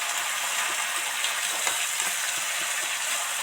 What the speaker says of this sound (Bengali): মশলার সাথে বাঁধাকপিটা মিশিয়ে দু চার মিনিট ভালো করে ভাজতে থাকবো